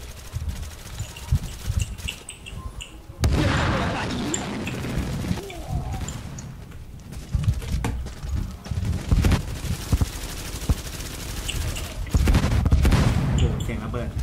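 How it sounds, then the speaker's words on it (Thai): Gunfire and explosions in the video game The Division, in a Dark Zone co-op match: loud bursts of shots and booms that come and go throughout, with voices talking over the action. "โอ้เสียงระเบิด"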